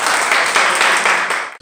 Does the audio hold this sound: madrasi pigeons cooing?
no